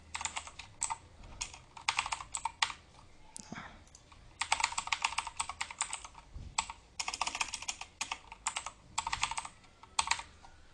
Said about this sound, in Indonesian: Kita klik pada worksheet dan ketikkan saja apapun itu yang kita inginkan